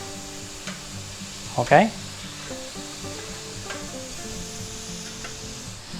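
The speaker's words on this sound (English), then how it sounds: "Push all your ground meat over to the side like this" Ground beef sizzles steadily in a skillet while it is pushed aside, with a soft scrape and brief spoken word over the low continuous frying hiss.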